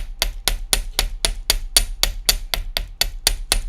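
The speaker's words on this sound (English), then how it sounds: "So when you hammer your piece," A hammer strikes 20 gauge wire to flatten the curve of a leaf earring, thirteen sharp metallic taps in a steady, quick rhythm, close and crisp with no talking.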